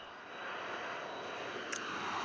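Boeing refueling drone in flight, its aircraft engine giving a steady broadband roar that holds fairly constant at moderate level, with a brief bright hiss partway through.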